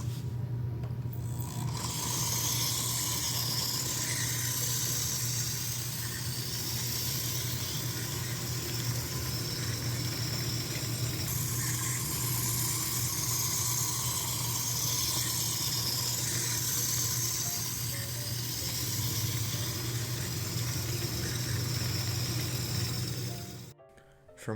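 A toy-grade model train engine runs with a steady, noisy mechanical whir and raspy rubbing hiss over a low hum, close by and unbroken for about twenty-four seconds before cutting off abruptly.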